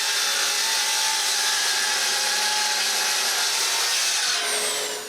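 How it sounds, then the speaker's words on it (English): A track saw running on a rail recuts the edges of a cherry wood board, a steady loud whining cut that holds for about five seconds and then begins to wind down. "So I recut both sides with my rail,"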